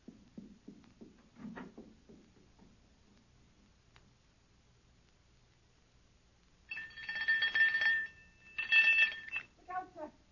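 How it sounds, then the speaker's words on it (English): A loud doorbell rings in two shrill electric bursts in the latter half, following a stretch of quiet talking and footsteps at the start. "Ring the doorbell"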